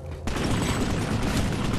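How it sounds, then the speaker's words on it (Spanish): Gunfire in the game Planetside 2 erupts abruptly after a brief quiet moment, becoming a dense, loud, sustained barrage of overlapping shots and booms that continues without pause. "Eso huele a disparos."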